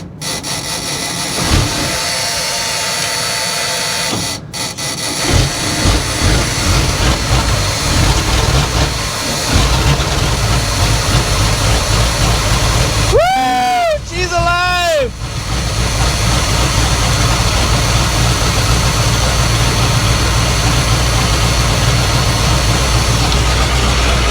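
The engine of a custom Cabover Ford hauler idles loudly and steadily, a constant rough drone that goes on throughout, with short interruptions and a few brief squeaky sounds partway through.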